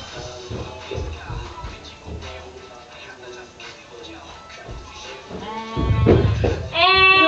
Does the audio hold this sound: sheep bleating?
yes